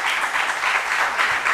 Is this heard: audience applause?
yes